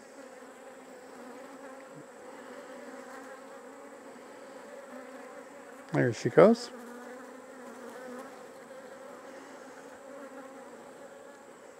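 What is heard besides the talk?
honey bees buzzing around a hive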